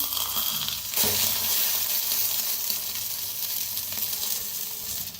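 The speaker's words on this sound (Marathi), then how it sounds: "तर मस्त आपला अंड भाजायला लागलेला आहे बघा" An egg sizzles and fries in a hot pan with a dense, steady crackling hiss that swells briefly near the start, close and loud, with no voices.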